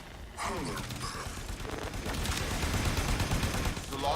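A heavy cannon fires in the Warframe video game, set at Fortuna, with a dense, sustained roar of blasts and mechanical rumble continuing for several seconds after a brief quiet opening.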